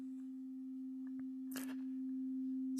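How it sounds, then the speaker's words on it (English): A steady sine-wave oscillator tone from OpenSoundLab holds one pitch throughout, punctuated by a few faint clicks and a short burst of noise, with no voices. "we have an oscillator, a sine wave oscillator in audio range"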